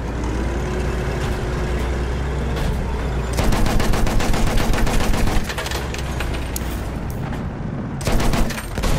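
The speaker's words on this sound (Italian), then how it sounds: "Attenzione, mitragliatrice!" Battlefield 1 combat with rattling machine gun fire in loud rapid bursts over a rumbling background, the heaviest volley in the middle and another short burst near the end.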